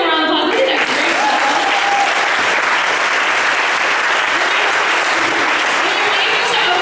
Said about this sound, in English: So y'all give them a round of applause.